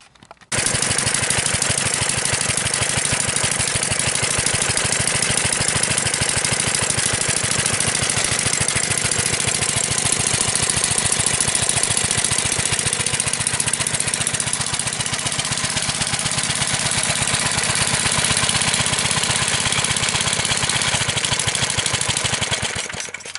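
A 3 hp Briggs & Stratton small engine starts abruptly and runs close and loud for over twenty seconds, giving a rapid, even, chattering pulse throughout.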